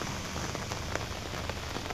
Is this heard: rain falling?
yes